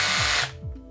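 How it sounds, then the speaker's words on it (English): A Parkside PABH 20-Li B2 cordless hammer drill runs in hammer mode, a loud, dense buzzing whir that cuts off about halfway through and leaves a short, fading mechanical rundown. "A second is a hammer drill."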